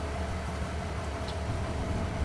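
A train rolls along steadily in a farming video game set in Alma, Missouri, a continuous low rumble with faint rail clatter, evenly loud throughout and with no talking.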